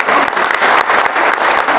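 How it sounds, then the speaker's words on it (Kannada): A Kannada talk audience breaks into steady, dense applause, many hands clapping evenly throughout at close range with no voices on top. "ಮತ್ತೆ ಚಪ್ಪಾಳೆ ಹೊಡೀರಿ"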